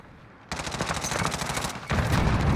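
Rapid automatic gunfire rattles in dense, continuous bursts during a Call of Duty esports match, loud and close, with a brief break before a heavier volley.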